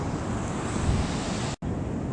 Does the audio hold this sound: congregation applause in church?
no